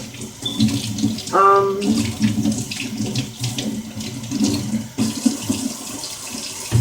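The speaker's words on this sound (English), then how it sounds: "I'm washing those right now with soap and water" Running tap water splashes steadily into a sink, with clattering and rubbing sounds of peppers being washed with soap under the stream.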